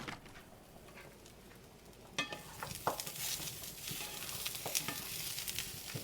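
Turkey meatballs searing in a pan, a steady close sizzle that swells midway, punctuated by sharp clicks and scraping taps as they are moved around.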